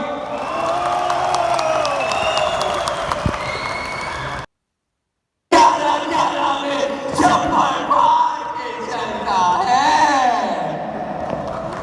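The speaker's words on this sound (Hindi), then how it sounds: "ये जिन लोगों ने हल्की तालियां बजाई है" A Daraz e-commerce summit audience claps, cheers and whoops, a loud mixed crowd roar with shouting that cuts out for a second of silence and then resumes with more voices and cheering.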